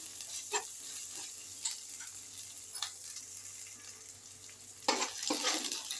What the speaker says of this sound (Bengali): পেঁয়াজ আর আদা রসুন বাটা হালকা করে লো ফ্লেমে ভেজে নেবেন